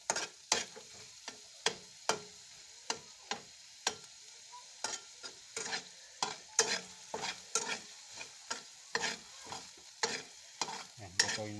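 Chopped garlic frying in a pan for a noodle dish with egg and tomatoes, with steady sizzling broken by frequent scraping stir strokes in a quick, uneven rhythm, close and fairly quiet, with no talking.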